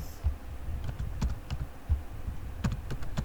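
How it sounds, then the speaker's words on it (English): Keys tapped on a computer keyboard while entering text in a word processor, uneven soft clicks close up at an irregular typing rhythm, with low thumps underneath. "So like here I will type some matter here, which you can see easily."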